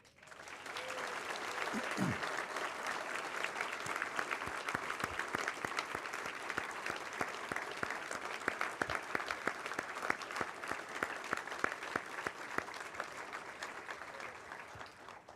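A church congregation at a bishop's 75th anniversary gathering applauds warmly for a priest and the Glenmary Home Missioners, a dense, even wash of clapping that holds steady for about fifteen seconds without speech.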